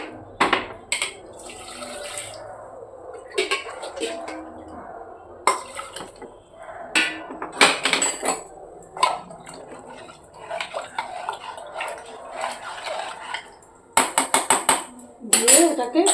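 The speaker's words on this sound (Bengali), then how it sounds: "এই গরম জল দিয়ে দেবো" Hot water is tipped from one vessel into a cooking pot of Bengali mutton curry in short splashing bursts with gaps between, close by, while someone speaks intermittently.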